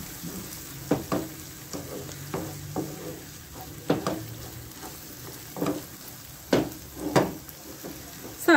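A cooking mixture is stirred in a pan with butter added, giving soft scraping strokes at an irregular pace over a gentle steady sizzle, close and fairly quiet.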